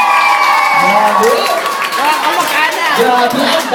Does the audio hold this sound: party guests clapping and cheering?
yes